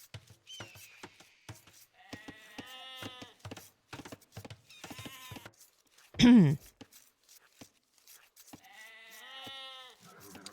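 Sheep bleat repeatedly in Age of Empires, several wavering, quavering calls at moderate volume spread across the clip, with short game clicks and one loud low thump in the middle.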